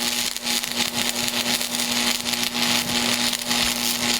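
Stick welding with 6013 rods at about 110 amps on 1/8-inch steel, powered by a Miller Thunderbolt, gives a constant crackling, frying arc sizzle over a steady electrical hum, close and unbroken without talk.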